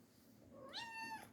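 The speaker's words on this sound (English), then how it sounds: "Here's my kitty." A house cat gives one short, soft meow that rises and falls in pitch. It is close and quiet, with no other sounds around it.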